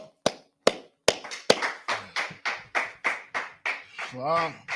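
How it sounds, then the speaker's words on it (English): Audience at a sermon clapping hands in a steady rhythmic beat, sharp individual claps settling into a regular pulse, with a voice speaking and chanting over them. "Clap it up."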